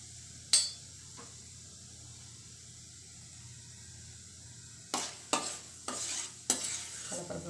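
Onions going into a pan of frying chana dal give a low sizzle and a sharp clank near the start, then a run of loud spatula scrapes and knocks against the pan toward the end.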